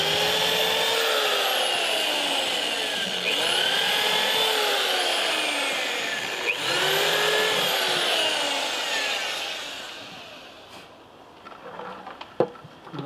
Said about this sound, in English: A couple of pilot holes now.